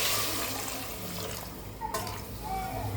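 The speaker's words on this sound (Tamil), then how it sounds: "இப்போது இதுக்கு தேவையான அளவு நம்ம தண்ணி ஊற்றிக்கலாம்." Water is poured into a pot of salna, a parotta curry, giving a continuous, fairly loud rushing splash with a faint low voice underneath.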